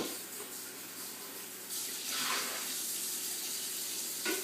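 Tap water runs and splashes while a fish tank is rinsed out, a soft continuous rush that swells louder partway through.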